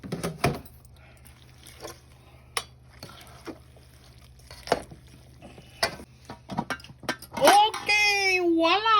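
Pancit noodles with bok choy get stirred in a pan, making soft intermittent clinks and scrapes of a utensil, while someone talks throughout and a voice rises near the end.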